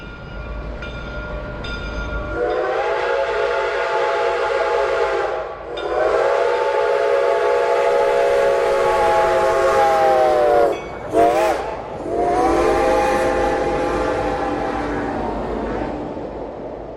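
A Baldwin-built 1928 4-6-2 Light Pacific steam locomotive, No. 425, rumbles steadily while its whistle sounds in long, loud blasts, broken by a brief pause and a short sharp toot, with no talk.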